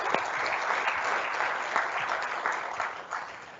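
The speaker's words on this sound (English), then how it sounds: "let's give a round of applause for all of the nominators that put out the nominations" An audience at a state governor's awards ceremony claps for the nominators, a dense sustained round of applause that tapers off toward the end.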